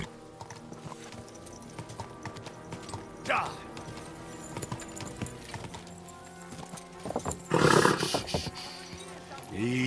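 Horse hooves clop amid busy game ambience in Kingdom Come Deliverance 2, with a louder burst of neighing or snorting near the end; a voice speaks over parts of it.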